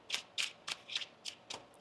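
Tarot cards shuffled by hand, six quick crisp riffling bursts in an even rhythm, close and moderately quiet with no voices.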